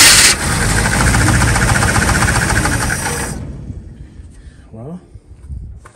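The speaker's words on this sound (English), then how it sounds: "the lifter tick is going away, I think." A 1963 Chevrolet Nova coupe engine with lifter tick runs loud and close with a fast ticking chatter for about three seconds, then cuts off abruptly, leaving quiet room noise and a brief voice.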